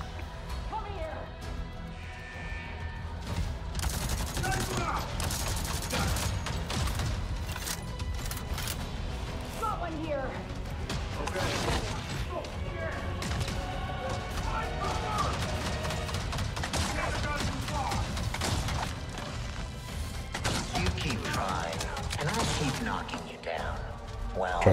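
Rapid gunfire in Avatar Frontiers of Pandora as a firefight breaks out near a tightly guarded gate, with dense bursts and impacts sounding continuously under a loud game mix with talking voices.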